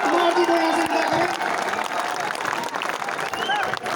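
An audience at a live talk show at Raza Library in Rampur breaks into loud, dense applause with some cheering, a continuous clapping wash that stays strong and gradually thins slightly over several seconds.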